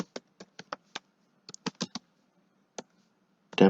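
A network name is typed on a keyboard in a quiet room: about a dozen crisp, close key taps in an uneven rhythm, ending in a short louder burst of keystrokes.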